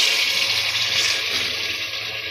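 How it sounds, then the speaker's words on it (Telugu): Water pours into a cooking pan of browned ingredients, a continuous loud rushing splash that fills the short moment alone. "ఇప్పుడు నీళ్ళు వేద్దాం."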